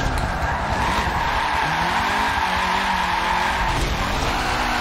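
Car tires skidding and squealing while drifting in the Forza racing game, a sustained loud screech with rising and falling pitch over a constant engine roar, no voices.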